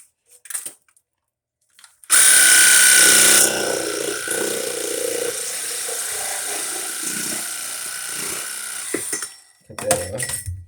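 A power tool cuts PVC pipe to length with a loud, steady whine of about seven seconds that begins with a shrill start, with short handling noises before and after.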